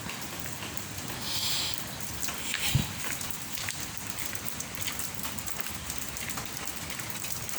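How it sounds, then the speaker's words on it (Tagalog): Steady rain patters on surfaces nearby, a continuous wet hiss with occasional louder drops and no voices. "Grabe yung ulan simula pa kahapon, walang hinto."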